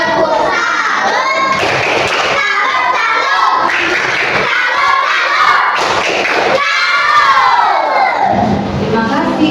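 Schoolchildren in an Indonesian classroom clap and shout a rhythmic group chant together, loud and close, with bursts of cheering voices and thumping claps filling the room throughout.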